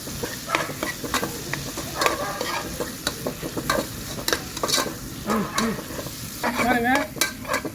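Bay leaf, star anise, cinnamon, cloves and green chillies sautéing in a pan for chicken biryani, with steady close sizzling broken by scraping stirs and spoon clinks, no talking.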